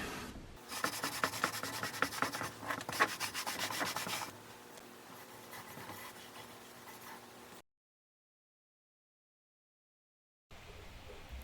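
Antique wax is rubbed by hand onto a wooden chest, a loud, rhythmic scrubbing for several seconds that turns softer, stops in a short silence, then resumes.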